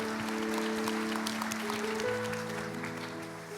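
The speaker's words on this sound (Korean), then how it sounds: "우리 다시 한 번 더 주님 앞에 우리 감사와 영광의 박수를 드리겠습니다" A church congregation claps together during a Sunday worship service, a steady wash of applause over sustained organ or keyboard chords that fades slightly toward the end.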